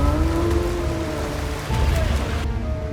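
Heavy rain falling, a dense steady hiss of downpour with a low rumbling wash underneath, loud and continuous throughout, briefly dipping partway through before returning.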